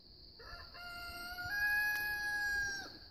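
A rooster crows once, a single drawn-out cock-a-doodle-doo at moderate distance over a faint steady hiss, in a rural Pacific Northwest setting.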